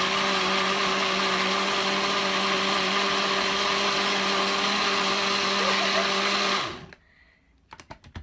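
A blender crushes ice in a steady, loud, high-pitched whirring drone that holds constant for several seconds, then cuts off abruptly, leaving near silence and a few small clicks.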